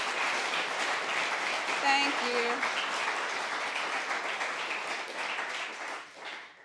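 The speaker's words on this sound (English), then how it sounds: "Let's give them a huge round of applause for all of their work." An audience at a university pitch night and showcase applauds the committee with a dense, even wash of clapping that fades near the end, while a voice speaks briefly over it.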